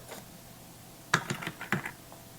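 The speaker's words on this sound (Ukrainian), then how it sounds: "І з клавіатури вводимо назву програми." A handful of quick keystrokes on a computer keyboard as a program name is typed, clustered in a short burst after a quiet start.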